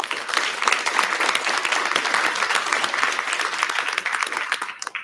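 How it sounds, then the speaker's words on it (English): Warm, steady applause from an audience at a board of directors meeting, a dense continuous crowd of clapping that holds for several seconds before easing off at the end. "let's give them a warm applause of appreciation"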